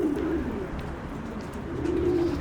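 Adana native pigeons coo in soft, repeated low calls at moderate distance, with no voices over them.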